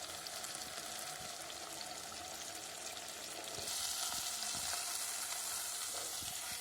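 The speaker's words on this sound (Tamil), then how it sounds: "சுண்டக்காய் குழம்புல புளி கரைச்சல் தண்ணியை ஊற்றுறோம்" Tamarind water poured into a simmering pot of sundakkai kuzhambu (turkey berry curry), a soft continuous sizzle and bubbling that swells louder partway through as the liquid hits the pan.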